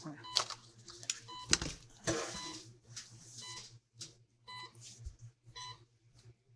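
An alarm gives out a string of short electronic beeps in uneven bursts, mixed with a few clatters and a steady low hum in the background.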